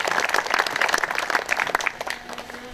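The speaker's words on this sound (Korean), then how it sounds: "큰 박수 부탁드리겠습니다." A ceremony audience applauds in a dense, steady burst of many hands, loud and close, which fades somewhat toward the end as a faint voice begins.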